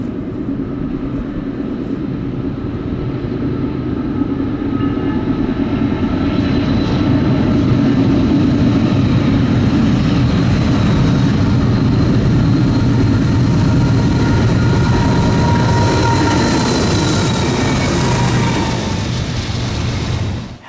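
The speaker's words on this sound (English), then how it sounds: "It was a while before we got our next train, which was 28X, also heading east with some Norfolk Southern junk." Eastbound Norfolk Southern freight train 28X rolls past close by: a loud, steady rumble and roar that holds for the whole stretch, with faint tonal whining riding on top and no voices.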